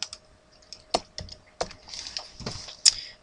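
Computer keyboard typing in a few separate bursts of close, crisp key clicks with short pauses between them, no voices.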